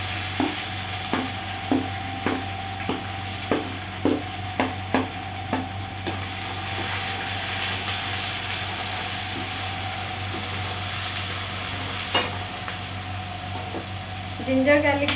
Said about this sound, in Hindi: अब इसमें हम प्याज डालेंगे, मैंने चॉप करके प्याज रखा था दो,